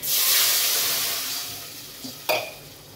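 Water hits hot oil with turmeric, chili powder and coriander powder in a pan: a loud, sudden hiss bursts at once and slowly fades into softer bubbling, followed by a couple of brief clanks near the end.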